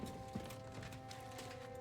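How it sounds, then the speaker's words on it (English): Steady hooves of an armored horse clip-clopping at a walk in Kingdom Come: Deliverance II, with faint metallic clinking riding along in a constant, busy game-like soundscape. "you can hear my horse coming from like a mile away because like the thing's clink"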